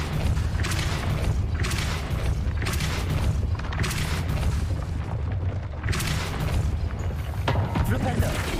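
Flipendo and Depulso spell casting in Hogwarts Legacy, repeated booming bursts with sharp whooshing onsets every second or so over a continuous low rumble, loud and close, with faint talk.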